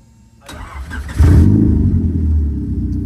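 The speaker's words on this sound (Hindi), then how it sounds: "आपको जरा गाड़ी स्टार्ट करके चेक करवाऊँ तो ये देखो जी।" A car engine cranks, catches and starts, then revs up to a loud, close roar before settling into a steady idle. No voices are heard.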